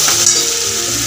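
Masala roasts in oil with a splash of water in a pan for a crab curry, giving a loud, close, steady sizzle with a soft clink of a utensil stirring partway through.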